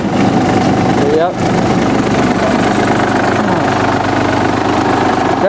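A John Deere F1145 diesel mower with a Yanmar engine idling on a hillside, a steady loud low rumble that holds unchanged throughout, close by with no break.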